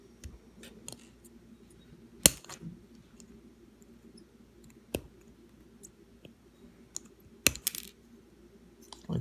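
Pliers snip a pistol off a plastic Khorne Blood Warriors miniature, giving a few sharp, isolated snaps and clicks spaced seconds apart over a faint steady background hum.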